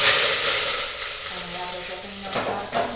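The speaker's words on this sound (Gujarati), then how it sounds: "અહીં રાઈ જીરું પકડી ગયા છે. નાખીશું હિંગ," Mustard seeds and cumin crackle in hot oil as asafoetida and curry leaves go in for a cluster bean curry tempering, a loud steady sizzle that eases slightly with faint stirring clinks near the end.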